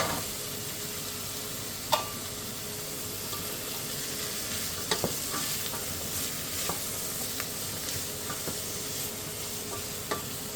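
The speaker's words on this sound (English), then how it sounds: "Now I'm going to sweat these down for about 2 minutes" Carrots sweat in a pan for minestrone soup with a continuous, even sizzle and crackle, marked by a few sharp utensil clicks, with no voices.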